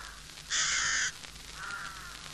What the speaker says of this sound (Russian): Серую ворону вы, конечно, хорошо знаете.